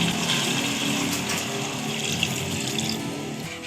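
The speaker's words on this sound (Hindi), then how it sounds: "अब हम इसमें 1 गिलास पानी डाल देंगे।" A glass of water is poured into fried beef and tomato in a pot for beef tahiri rice, giving a steady close gushing splash that holds fairly constant for several seconds.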